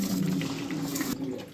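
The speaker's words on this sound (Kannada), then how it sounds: "ಸ್ವಲ್ಪ ನೀರು ಹಾಕ್ಕೊಂಡಿದ್ದೀವಿ." Water is poured into rice in a pressure cooker over cooked chicken for biryani, a short close splashing pour of under two seconds that stops abruptly.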